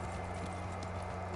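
Steady clip-clop of horse hooves in Kingdom Come: Deliverance, an even trotting rhythm at close range over a constant low game-engine hum, with no talking.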